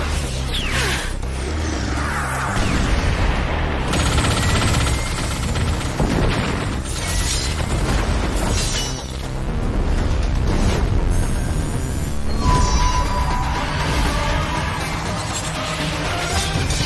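Animated sci-fi battle with fighter jets opening fire: a dense, loud barrage of booming explosions, rumbling blasts and rapid gunfire bursts, continuous throughout with heavy low-end impacts.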